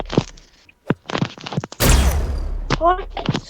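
Gunfire crackles in a shooter video game, a dense burst of shots in the middle breaking up excited player talk heard before and after.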